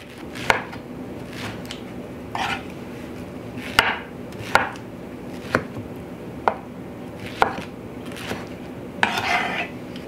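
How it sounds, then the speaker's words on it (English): A knife chops peaches and plums into small pieces on a board, with a series of irregular, close taps and knocks over a steady low kitchen hum. "I'm just cutting it up into smallish pieces"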